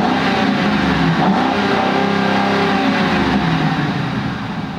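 Ford Crown Victoria V8 from 2010, a Georgia-spec car, revving steadily close by, a loud continuous engine drone that holds even and fades slightly at the end, with no voices.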